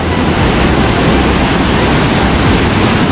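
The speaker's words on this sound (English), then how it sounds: "you can see river which is completely flooded" Floodwater rushing through Baje Dam on a completely flooded river, a steady loud broadband roar with no breaks, the flow and wind filling the whole scene.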